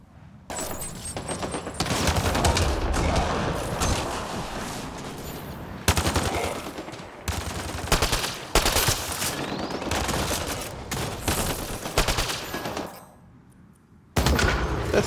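Sustained gunfire in Mass Effect Andromeda: dense, loud bursts of rapid automatic shots continue almost without pause, broken by a few brief gaps and one short lull near the end.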